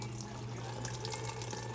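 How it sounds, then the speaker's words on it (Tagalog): A tap runs slowly because of low water pressure, a quiet, steady trickle into a sink with a faint hum underneath. "Dito yun, hiray-hiray siguro ang tubig."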